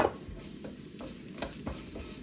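Vegetables, including cucumber, stir-fried in a hot pan for a Korean side dish, sizzling steadily up close with a few louder scraping stirs spaced through the short stretch.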